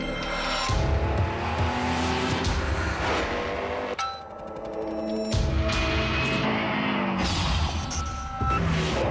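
A Porsche drives hard with a loud revving engine and tire squeals, cut in bursts with a short quieter gap midway before the engine surges back.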